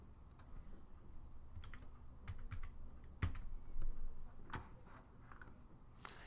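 Soft, scattered keystrokes on a computer keyboard as a zip code is typed, irregular clicks in small bursts over a quiet low room hum, close and faint, with no talking.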